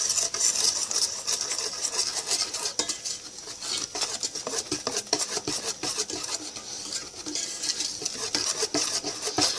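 Flour and baking powder mixed in a bowl, a continuous close scraping and rasping of a utensil against the bowl with quick irregular strokes, heard alone and fairly loud.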